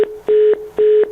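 Telephone call disconnect tone: two short, loud, steady beeps repeating at an even pace with brief gaps, sounding alone without any voices.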